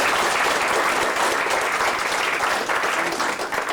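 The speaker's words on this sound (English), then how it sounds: "Let's give them a round of applause." An audience applauds teachers Ms. Kim Bentley and Ms. Paula Hosey at a recital bench dedication, a steady, dense burst of clapping that holds evenly throughout with no break.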